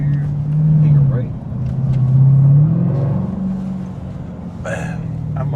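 The 710 HP engine of a 2025 Dodge Durango SRT Hellcat rumbles and revs through two rising surges, loud and close inside the cabin, with voices talking over it.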